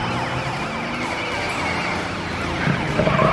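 Cartoon police car siren wailing loudly and continuously in a kids' truck animation, rising and falling sweeps over a busy background of motion sounds.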